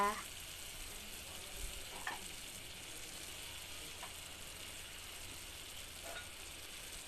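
Chicken and garlic sizzling quietly in a pot without oil, a soft steady fry with occasional faint stirring scrapes.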